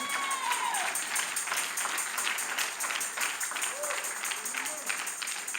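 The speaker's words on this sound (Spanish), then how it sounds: "Y el que lo crea, dele un fuerte aplauso al Señor." A church congregation claps during a Spanish-language sermon, a fairly even rattle of many hands at moderate distance, with faint voices and a few whoops or calls rising over it.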